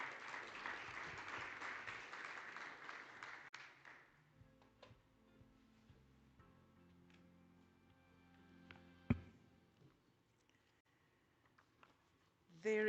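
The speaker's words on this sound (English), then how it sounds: "let's give them a round of applause again" A conference audience at the Namibia Oil and Gas Conference applauds its panelists with loud, dense clapping for a few seconds before it thins out and dies away into a quieter room.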